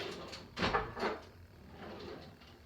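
Kitchen drawers slide open and shut in a home kitchen during meal prep, two close, hollow wooden knocks followed by softer rustling and faint movement, with no talk.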